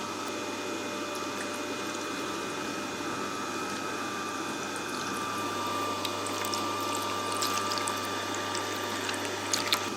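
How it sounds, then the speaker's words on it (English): A Tormek T-4 wet grinding machine runs with its stone turning in a water tray, giving a steady mechanical hum with faint watery trickles and light clicks, close by. "We do this by letting the machine run and apply water in the tray."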